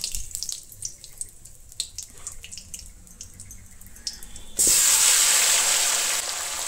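Water left from rinsing a bowl poured into a pot of goat curry with bay leaf and whole garam masala, starting as faint drips and splashes, then turning to a loud, steady rushing pour that runs to the end.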